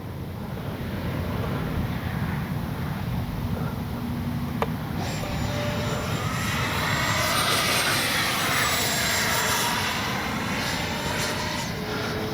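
Freewing F-35 RC electric ducted fan jet in flight, heard as a continuous rushing whine that swells and shifts in pitch as the model passes, mid-distance and fairly loud over wind noise, with no talking.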